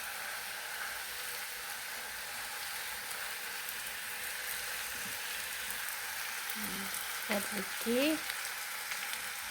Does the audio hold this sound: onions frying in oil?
yes